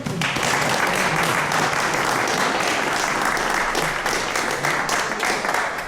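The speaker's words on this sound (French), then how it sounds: "On peut l'applaudir" A crowd at a cycling event for a Paris-Clermont ride applauds the organiser, sustained dense clapping that stays loud and even from start to finish.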